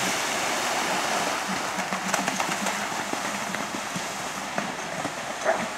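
Horse hooves clip-clop on the ground during a three-star driving marathon, irregular strikes heard faintly under a steady rushing wash of outdoor noise.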